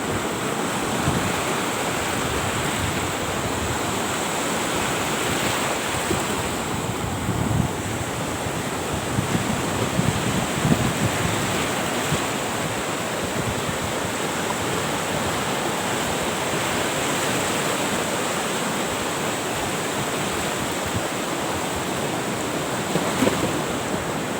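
Sea waves wash continuously onto the beach at Hua Hin, Thailand, a steady roaring surf with gusts of wind buffeting the microphone, no voices.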